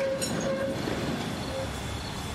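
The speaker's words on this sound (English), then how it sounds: "Old tram car." An old tram car in the Wedding Designer video game rolls along with a continuous rumbling clatter and a brief high squeal near the start, steady and close, with no voices.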